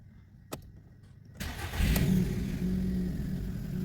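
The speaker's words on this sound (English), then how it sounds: "let me start the engine." A VW Polo 1.2 (6R1) with a power steering malfunction cranks with a brief starter burst and catches. Its engine then settles into a steady, close idle, following a sharp click and a quiet pause.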